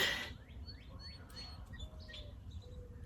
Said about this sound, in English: It's two song sparrows.